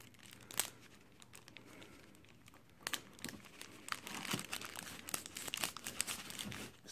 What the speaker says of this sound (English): Now I'm going to try and cut through this one without butchering it